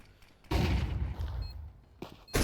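Rapid gunfire bursts in Counter-Strike 2 come as a long loud spray of shots, a short pause, then another burst at the end, all without voices.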